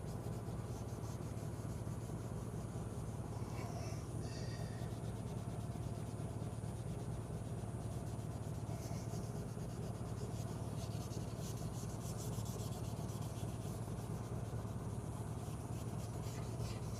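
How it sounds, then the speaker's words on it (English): Steady scuffing and rubbing of abrasive against an alloy wheel rim to remove overspray from a DIY repair, a continuous close rasp with small fluctuations and no talk. "We want to get as much of this overspray from the DIY attempt scuffed as possible."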